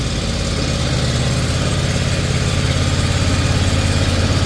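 A Briggs & Stratton small engine runs at a steady idle, a loud continuous close-up putter with an even rhythmic pulse and no pauses.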